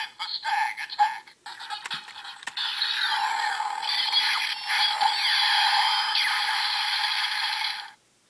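A Go-Busters Driblade toy is handled as it changes mode, with several sharp plastic clicks and rattles, then a sustained whirring electronic gear sound that runs for several seconds before stopping abruptly, close and fairly quiet.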